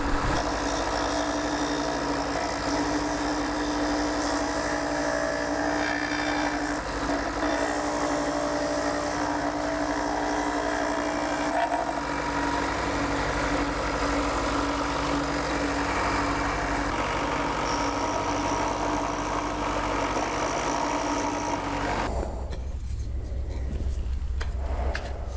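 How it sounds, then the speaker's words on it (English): A disc sander runs continuously, finishing a custom oak kitchen shelf, a steady loud whir with grinding texture for most of the stretch before the motor cuts and winds down near the end. "I'm going to actually finish that on the sander"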